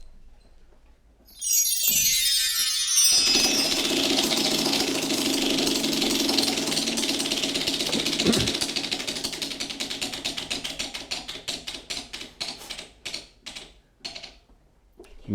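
A game show prize wheel spins with a dense ratcheting clatter that holds steady, then slows into separate clicks spreading apart until it stops near the end, loud and without voices.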